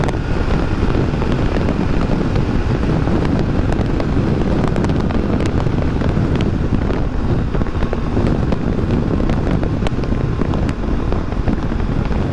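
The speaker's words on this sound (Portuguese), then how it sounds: "apesar de ser grande assim, mas ainda eu tô sentindo aqui na lateral o vento" Steady, loud wind roar buffeting the microphone while riding a 2019/2020 Triumph Tiger 800 XCA motorcycle, a continuous broadband rush with faint engine rumble underneath and no talk.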